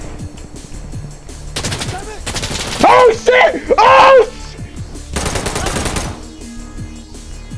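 Gunfire in a video game crackles in several rapid bursts, some close and loud, others quieter, with a man's excited exclamations over parts of the shooting.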